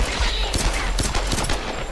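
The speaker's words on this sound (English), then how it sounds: "Let's just shoot him so they die." Rapid, loud gunfire bursts from a pistol in the video game Tomb Raider, a dense string of close shots filling the short stretch.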